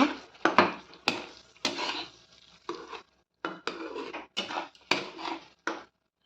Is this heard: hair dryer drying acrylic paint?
no